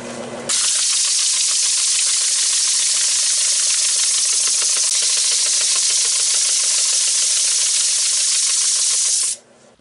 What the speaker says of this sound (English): So I'll sand it up real quick and get a decent finish